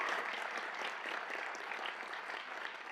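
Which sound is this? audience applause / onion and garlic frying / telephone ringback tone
audience applause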